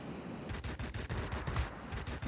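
Paired 23 mm cannons on a fighter plane in World of Warplanes fire in a rapid rhythmic stream of thumping shots, roughly a dozen in quick succession, loud over a constant engine drone.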